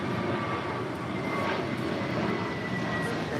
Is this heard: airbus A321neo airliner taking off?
yes